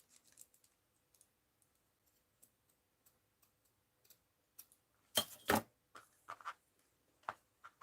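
Several crisp scissor snips cut through paper in a quiet room during mixed-media art journaling, with a brief loud double snip in the middle and lighter clicks of handling scattered around it, no talking.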